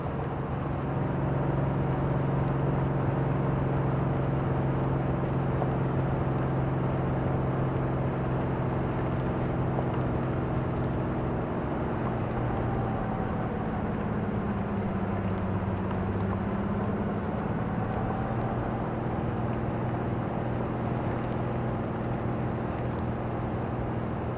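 Steady car engine drone while driving in Cyberpunk, a continuous low hum with tonal layers that shift pitch midway as the vehicle changes speed, loud and constant without any talk.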